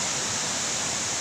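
Steady rushing water of a river stream at the Alur Sungai Pinang recreation spot in Abdya, a continuous broadband flow filling the short stretch with no voices.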